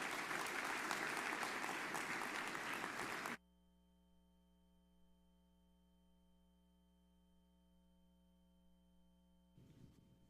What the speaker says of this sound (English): How about another round of applause for Michael Hagstrom?